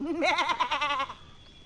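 A ram bleats in the Divinity: Original Sin Enhanced Edition video game, one wavering, nasal, goat-like cry up close, dying away after about a second.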